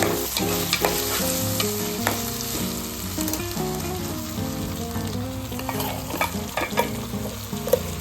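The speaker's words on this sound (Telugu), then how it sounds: "ఆలుగడ్డ ముక్కలు అందులోకి వేసుకోవాలి వేసుకొని మంచిగా కలుపుకొని" Potato pieces frying in a pan with garlic, stirred continuously. The sizzle is loud and steady, with repeated scraping and clinking of a utensil against the pan all the way through.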